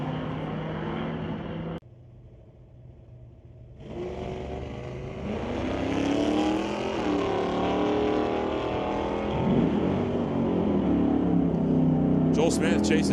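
Drag race cars, including a Chevelle, launch down the quarter mile at Mission Raceway Park during an ET series race, engines roaring loud and rising to a sustained full-throttle howl after a brief lull, with announcer speech mixed in.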